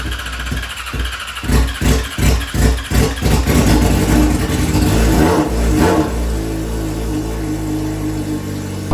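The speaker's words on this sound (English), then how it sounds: "This is the loudest motorcycle I've ever ridden by a long shot." A loud Yamaha R6 motorcycle starts roughly and then revs in a series of quick, rhythmic blips before settling into a steady, throaty idle, all close up.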